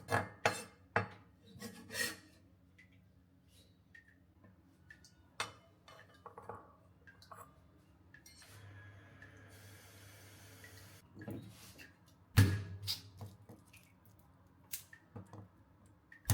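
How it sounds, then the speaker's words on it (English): A kitchen knife cutting ginger into small pieces on a board: scattered sharp chops and scrapes, a longer rubbing stretch in the middle, then a louder clatter. "Cut the ginger into small pieces and put them in a bowl."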